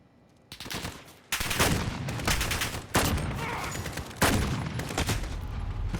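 Hipfire shots from the SPR 208 rifle in Call of Duty Modern Warfare, several loud sharp reports spaced a second or so apart, each ringing out with a heavy tail, with no voices.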